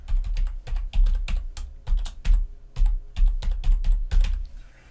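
Someone types a password on a computer keyboard: a quick, uneven run of close, sharp key clicks in bursts, with no voice.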